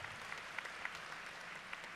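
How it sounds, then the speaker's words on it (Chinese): A hall audience at a 2017 charity auction in Seattle's Meydenbauer Center claps steadily for about two seconds, a dense, fairly soft, even patter of many hands with a few sharper individual claps. "我们再次热烈的掌声"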